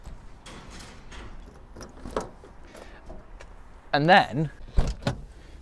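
A classic car at an auction, its driver's door faulty, has its passenger-side door unlocked: a brief mechanical whir and clunk mid-clip followed by a sharp click, under quiet talk.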